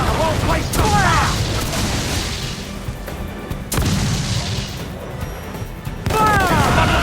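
Ship cannons fire in the naval battles of the video game Assassin's Creed 4: Black Flag, three loud booming blasts spaced a few seconds apart over continuous battle noise and shouted voices.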